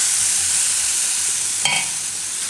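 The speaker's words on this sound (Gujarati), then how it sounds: "ગેસ એકદમ ધીમો કરી નાખશું અને આમાં આપણે ખીરું પાથરશું." Puffed rice batter with vegetables sizzles on a hot griddle over a low flame, a steady hissing crackle heard close up, with a single faint tap partway through and no voices.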